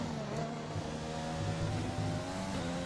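An Alfa Romeo Formula 1 car in the F1 racing video game screams through a timed qualifying lap at the Austrian circuit, a steady high-revving engine whine with shifting pitch, fairly quiet and unbroken throughout.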